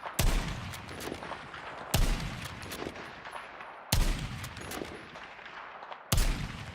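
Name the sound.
sniper rifle gunfire in a video game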